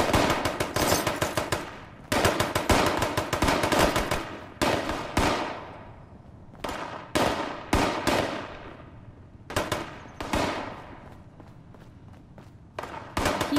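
Distant gunfire from a fight in the video game Fallout 76, with rapid bursts of automatic fire broken by short pauses and scattered single shots, loud and sharp throughout the scene.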